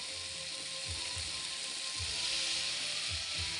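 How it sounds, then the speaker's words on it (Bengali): Prawns frying with softened tomatoes in a pan, giving a steady broadband sizzle throughout with a few soft low knocks from the pan or spatula. "চিংড়িগুলো দিয়ে দেবো।"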